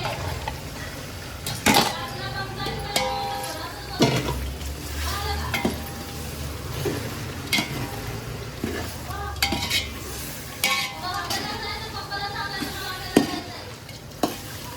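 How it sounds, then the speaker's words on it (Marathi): Mutton being stirred in a sizzling pan for biryani: continuous frying crackle with repeated scrapes and clinks of a spoon against the metal pan, close by. "एकत्र असं मिक्स करून घ्यायचं मटण आपण सगळं."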